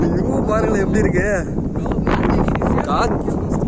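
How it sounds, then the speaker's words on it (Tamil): Strong wind on the Parvathamalai mountain trail buffets the microphone in rough continuous gusts, loud and close, with a voice calling out over it. "காத்து."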